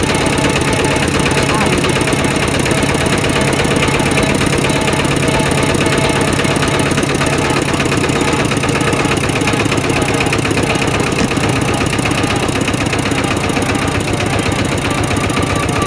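A repaired farm tractor engine runs steadily on test, a loud, continuous mechanical drone with a rapid knocking rhythm throughout, with people talking over it.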